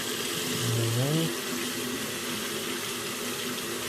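Hot water running steadily from a tap after a water heater pilot problem, a constant broadband rush with a faint low voice-like tone near the start.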